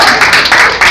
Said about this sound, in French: Ça, c'est pour vous applaudissez pour ça.